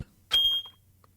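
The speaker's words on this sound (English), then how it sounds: "Beep beep." A short electronic beep from the Danganronpa 2: Goodbye Despair video game, a single clear tone near an air conditioner in a room, heard alone and fairly quiet against a soft low hum.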